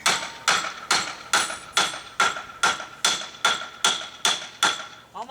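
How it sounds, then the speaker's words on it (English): About a dozen sharp, evenly spaced hammer blows ring out against a motorcycle brake caliper during a maintenance session, each strike metallic and close, with no talk over them. "Is this the special torque hammer?"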